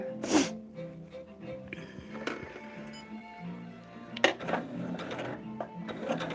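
Sewing machine stitching a quilted star table runner, a quiet mechanical whir and ticking running close by, interrupted by a few sharp clicks and thumps, fairly faint throughout.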